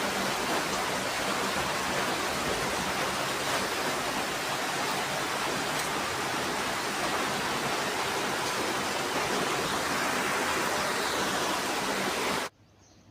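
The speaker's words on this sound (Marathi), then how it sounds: "तर पाऊस, एकदम जोरदार पाऊस चालू होता." Heavy monsoon rain pours steadily outside a bedroom balcony, a dense, unbroken roar of falling water that stays loud throughout before cutting off abruptly at the end.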